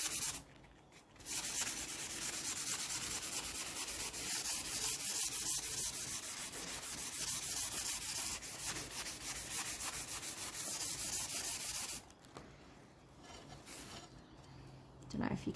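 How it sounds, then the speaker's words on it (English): Hand sanding over chalk-painted tiles makes a continuous scratchy rubbing that runs almost without pause for about ten seconds, then drops off into quieter handling noise. "Let's see if I sand a bit more, what happens."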